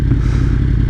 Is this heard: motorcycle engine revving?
yes